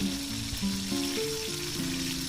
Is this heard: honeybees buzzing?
no